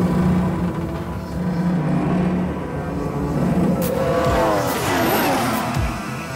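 A Formula 1 car lapping the Red Bull Ring, its engine a loud, steady high-pitched scream with rising and falling gear pitch sweeps as it accelerates slightly downhill toward turn 3.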